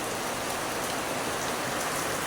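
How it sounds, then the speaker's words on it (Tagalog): Steady rain falling and pattering on a surface, a dense, even hiss with scattered drop sounds and no voices. "Ayan yung ulan dito"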